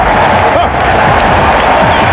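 Basketball arena crowd roaring and cheering after a slam dunk, a dense continuous swell of voices with scattered clapping.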